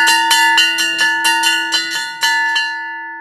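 Hung metal cylinder bell rung with a string, about a dozen bright, ringing strikes in a fairly steady rhythm, loud and close, with a long shimmering decay after the last hit and no talk.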